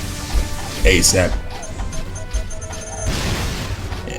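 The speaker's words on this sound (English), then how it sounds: "once you destroy these blast bots, I recommend getting away from the explosions, because they will also take away from the health" Blast bot explosions in the Jak 3 video game, booming bursts around one and 1.3 seconds over steady game music and effects, with a voice talking briefly near the end.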